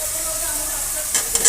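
Spice paste with turmeric sizzles steadily in hot oil in a pan while cauliflower, katla fish and potato curry is cooked, a constant loud hiss with a few clinks of stirring near the end.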